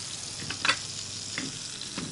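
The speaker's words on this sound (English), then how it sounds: "when your king crab is pan fried, we're going to add a bit of butter" Red king crab pan frying in butter, a soft continuous sizzle close by with a few faint clinks and stirring touches, no voices.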